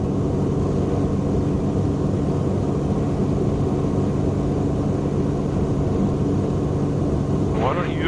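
Heard from inside the cabin, a light aircraft engine in flight hums as a dense, unbroken drone throughout, with a brief voice near the end.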